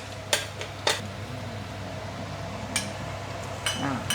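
Dried shrimp and garlic are stir-fried in a pan over very low heat, with a few sharp metal clinks of the spatula against the pan spaced out over a faint, steady background hum.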